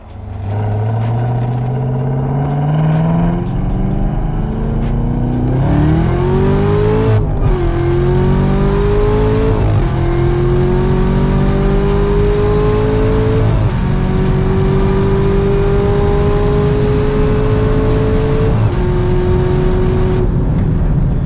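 A manual 2020 Chevrolet Camaro ZL1 1LE accelerates hard, its engine note climbing steadily through several gears with brief dips at each shift, loud, close and continuous without talk.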